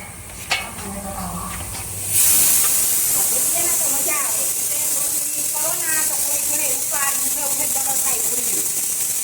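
Oil sizzles loudly in a pan during home cooking, a dense, steady hiss that rises abruptly and holds at full strength while a person talks over it.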